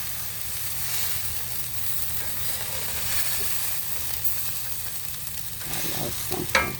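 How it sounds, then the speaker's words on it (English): Mushrooms and brown onion fry in a pan with a steady, close sizzle and hiss, broken near the end by a few clinks and scrapes of a utensil. "now I'm going to slide my mushrooms into here and the brown onion"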